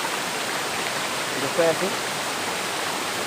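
Water pouring down at Akashi Ganga waterfall onto slippery rocks, a constant broad rushing roar with a brief spoken voice partway through.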